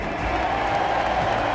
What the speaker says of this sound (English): Ladies and gentlemen, give yourselves a round of applause for being here with us today.